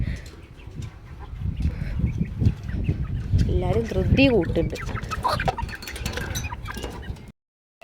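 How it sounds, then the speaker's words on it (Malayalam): Chickens cluck busily nearby in a steady chorus, with a person speaking over the birds and constant outdoor background noise. "നമ്മളെ കോഴിക്കുട്ടന്മാരൊന്നും വിട്ടിട്ടില്ല കേട്ടോ"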